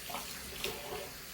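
Tap water runs steadily into a bowl for a pet cat, a faint, close hissing splash lasting about a second and a half.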